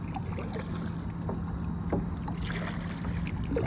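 Kayak paddle strokes dip and swish through water on an outing near Houston, soft repeated splashes close to the boat over a steady outdoor background, with no talking.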